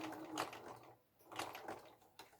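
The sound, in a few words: sewing machine stitching a fold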